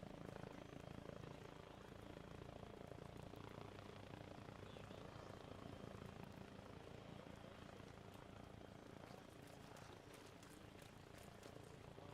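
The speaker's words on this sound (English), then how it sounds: "I hear a helicopter." A helicopter flying overhead outdoors, a continuous low rotor drone and whir that stays steady and fairly distant throughout, with no talking.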